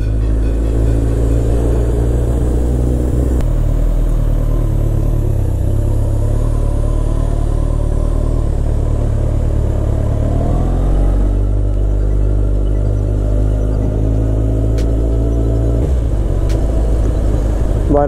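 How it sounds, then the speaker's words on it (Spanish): A heavy 210-horsepower motorcycle's engine rumbles steadily and loud, with the pitch climbing in a few swells as it revs, over continuous low engine drone. "Tenéis que entender que esta moto pesa lo suyo y tiene 210 caballos"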